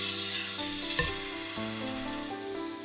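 Battered eggplant pieces deep-fry in plenty of oil heated to 180 degrees, giving a steady close sizzle and bubbling with a few brief pops, no one speaking.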